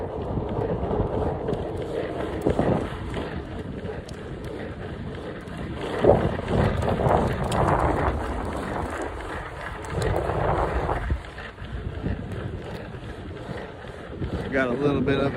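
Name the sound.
headwind blowing into the microphone while skateboarding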